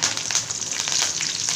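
Curry leaves crackling and sizzling in hot oil with mustard seeds and urad dal, a loud close spitting hiss with rapid pops throughout a brief burst, no speech.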